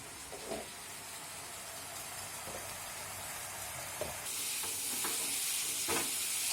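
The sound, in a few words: spice masala being fried and stirred in a pan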